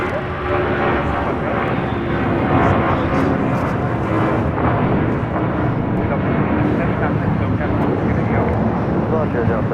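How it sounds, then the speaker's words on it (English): Delta Airlines Boeing 757-200 taking off at LAX, a loud, steady jet roar that fills the whole stretch with broadband rumble and hiss, close by and sustained without letup. "This is Delta Airlines 677 taking off to Boston on a 757-200"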